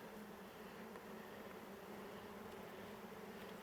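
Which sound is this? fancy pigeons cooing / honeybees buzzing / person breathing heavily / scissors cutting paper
honeybees buzzing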